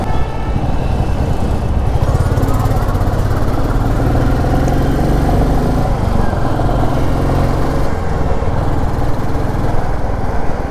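A Royal Enfield Classic 350 motorcycle, just back from its first service, rides along a main road with a steady, loud engine drone and road rumble throughout.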